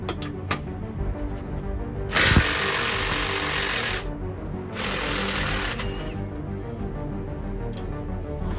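A mobile mechanic's power tool loosens a bolt in two loud bursts of hard, rattling hammering, each about two seconds long with a short gap between, over a steady background hum.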